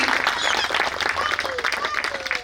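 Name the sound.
audience applause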